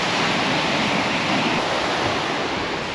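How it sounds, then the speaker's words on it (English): Big waves crash continuously on a beach in Phuket, a loud, dense roar of surf with no break and no voices. "Yes, big crashing waves, looks absolutely beautiful."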